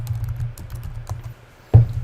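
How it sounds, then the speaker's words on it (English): Keys clatter on a computer keyboard as a keyword is typed, a quick irregular run of close, light clicks followed by a louder thump near the end. "let's just say I was typing in Christian gifts Nashville"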